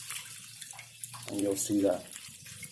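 Water poured from above onto the soil of a freshly transplanted English oak pre-bonsai, a brief splashing run under a voice, close and moderately loud.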